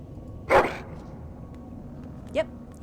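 Companion dog in Dragon Age: Origins, a game hound sent to search for a helmet, gives one loud bark followed about two seconds later by a shorter yip, over quiet game ambience.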